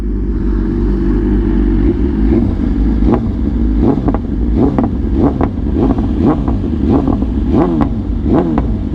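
A BMW S1000RR motorcycle engine revs hard and repeatedly through a loud custom exhaust with titanium headers and SC slip-on, sharp throttle blips rising over a steady rumbling idle.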